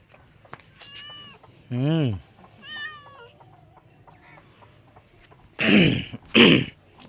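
Cats at a house give a few short meows and a longer rising-falling cry, with quieter throat-like sounds and two loud bursts near the end.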